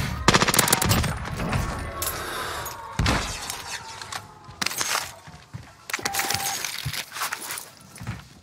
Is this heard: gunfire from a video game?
yes